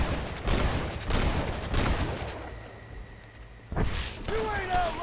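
Gunfire in the Red Dead Redemption video game, a burst of repeated shots and thumps over the first seconds, then a quieter lull before more impacts return, with game voices and music mixed in.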